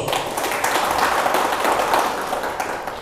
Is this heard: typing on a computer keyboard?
no